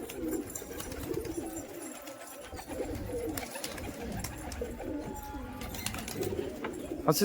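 Low, throaty cooing from released Murshidabad Giribaj pigeons rolls on continuously in overlapping phrases, near and moderately loud, with light rustling and no clear talk.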